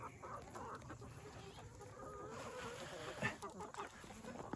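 Backyard chickens cluck and fuss close by while eating tomatoes, a busy continuous flock chatter with a louder squawk near the end.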